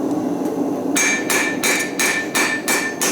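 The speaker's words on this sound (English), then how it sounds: "I'm just hitting, lightly letting the weight of the hammer fall down." Six evenly spaced, ringing hammer blows land on hot steel at the forge, each a light strike that lets the hammer's own weight fall. They come alone over a low background hum.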